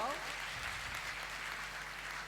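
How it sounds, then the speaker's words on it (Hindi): Audience clapping at a parents' honouring ceremony in Katni, a steady dense patter of many hands held at an even level throughout, with a brief voice at the very start. "एक बार जोर से तालियां बजा के बजाओ"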